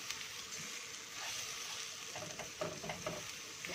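Yellow rice is stirred in a cooking pot, with soft scraping and light sizzling over a low background hiss, close by and fairly quiet, no talking.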